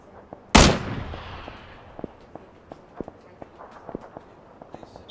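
A single loud, close gunshot in a video game with a long decaying echo, followed by a scatter of faint clicks and footstep-like taps.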